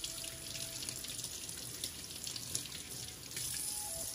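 Tap water runs steadily into a kitchen sink, rinsing a dry-brined salmon fillet being prepared for smoking; a continuous close hiss and splash with slight shifts in flow, no voices.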